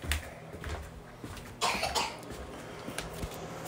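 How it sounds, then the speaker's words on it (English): Several short coughs and throat-clearing bursts, scattered irregularly over a quiet background, fairly close. "Seems like he's always coughing when I'm recording a video."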